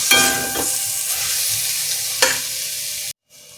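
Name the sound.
chicken curry being sautéed with spices in a pan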